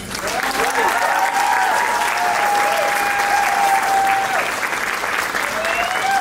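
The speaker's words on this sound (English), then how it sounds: "I want you to give all of these guys a round of applause" A crowd claps steadily and loudly for several seconds, a dense continuous wash of applause with a few faint whistles over it.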